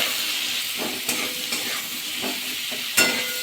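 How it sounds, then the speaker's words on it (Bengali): Diced potatoes sizzle in a pan with salt and turmeric while a spatula stirs them, giving a steady frying hiss broken by a few sharp scraping knocks against the metal. "আলুগুলো দিয়ে দেবো। লবণ, হলুদ, আবার একটু নাড়াচাড়া করে নেবো লবণ দিয়ে।"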